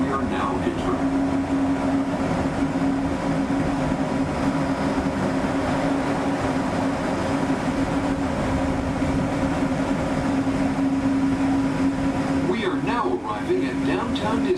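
A Disneyland Resort ride vehicle rolls into Downtown Disney Station with a continuous low rumble and a steady hum, loud and even throughout, while a faint announcement plays over it.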